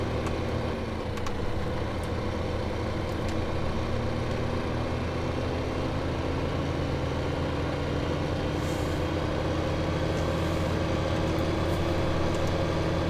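A tractor engine in the Farming Simulator 2015 video game runs as a loud, steady, close drone with a slowly rising whine layered over the rumble, continuous throughout with no talking.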